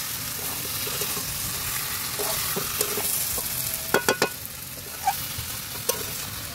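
Boiled potatoes and a fish head stirred and fried in a pan for a Bengali ghonto, a steady close sizzle broken by several sharp scrapes and clinks of the spoon against the pan, with no talking.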